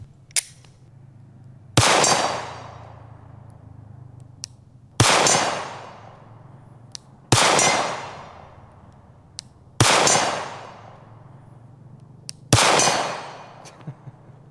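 Five sharp Glock 48 pistol shots ring out at a steady, unhurried pace toward a target at 60 yards outdoors, each crack loud and followed by a brief fading echo.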